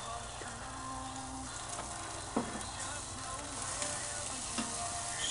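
Redfish fillets sizzling and frying steadily on a BBQ grill, a continuous crackling hiss with a few sharp pops and clicks, close and moderately loud, with no talk.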